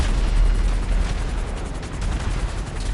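Missiles exploding around a helicopter in GTA Online, a dense, loud, rumbling roar of blasts and rapid gunfire-like bursts layered over the steady drone of rotor and engine, continuous without a break.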